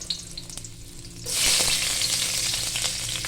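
Garlic dropped into a hot pan starts frying, a sudden loud hiss of sizzling that begins partway through and continues steadily, close and alone without talk.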